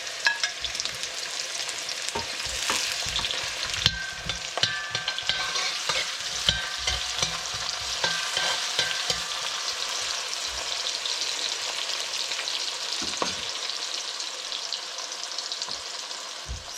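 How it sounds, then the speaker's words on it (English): Onion fries in a pan for a dhal and mutton curry, a constant close sizzle with frequent stirring scrapes and clatters, easing toward the end. "So in goes the onion."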